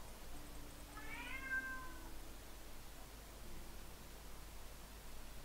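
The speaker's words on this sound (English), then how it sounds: "I really don't know how to shut my cat up" A pet cat in Life is Strange meows once in a rising, drawn-out call, fairly clear over a steady hiss of background noise, then goes quiet.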